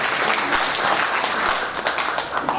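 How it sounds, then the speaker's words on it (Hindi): A crowd at a Hindi motivational speech in Khutauna applauds, loud and close, with dense hand claps and a few sharper individual claps standing out over the steady roar. "तालियां बजाइए अपने लिए"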